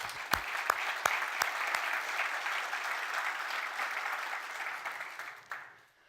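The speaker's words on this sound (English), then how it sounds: "So I guess all of you deserve an applause." An audience at a corporate keynote conference breaks into steady applause, a few sharp claps standing out at first before the clapping fades away near the end.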